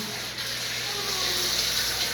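Hot and cold water running from a tap in a private family sauna in Korea: a steady gushing flow, close by, with faint voices in the background.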